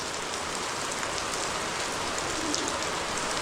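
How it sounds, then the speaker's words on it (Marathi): Heavy monsoon rain pours onto village roof tiles in a dense, continuous hiss, loud and close, with no voices and no break in the downpour. "गावाला पाऊस तर कंटिन्यू पडतोय."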